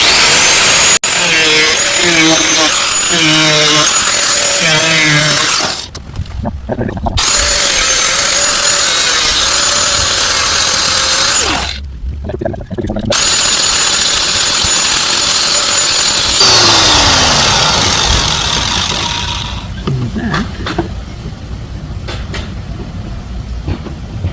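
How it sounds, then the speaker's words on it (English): An angle grinder fitted with a cutting blade slices through a plastic car bumper during a repair, a loud, close, continuous whine and rasp with two brief breaks where the cut pauses. "I'm just going to cut it with the grinder because it's nice and simple"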